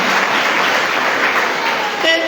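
Church congregation applauding in a dense, loud burst of clapping, with voices mixed in and a shout at the end.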